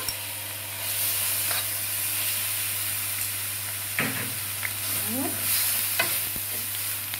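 Minced garlic drops into about three spoonfuls of hot oil in a pan and fries with a steady close sizzle, joined by a few short scraping stirs and light clinks near the end.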